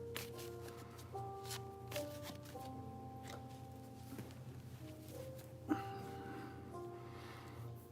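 Tarot cards handled for a reading, quiet riffling and soft shuffling taps close by, with faint intermittent crackles and an underlying hum.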